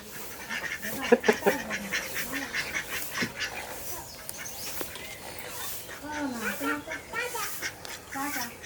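Ducks in a backyard coop quack in scattered bursts, fairly close, mixed with other poultry calls and a voice speaking in between.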